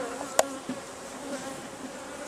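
Bees buzzing around an open beehive as a queen is introduced, a soft steady drone with one sharp close buzz passing early, no talk.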